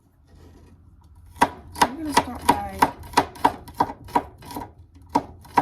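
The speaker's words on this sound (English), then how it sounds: "chopping our garlic." Garlic cloves being chopped with a knife on a board, a steady run of about a dozen crisp, close knocks at an uneven pace, preceded by a brief spoken line.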